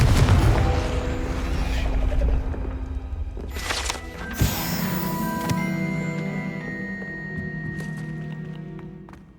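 A Confringo fire spell blasts in Hogwarts Legacy, one loud booming burst near the middle with crackling debris, set against steady game music and ambience that carry on throughout.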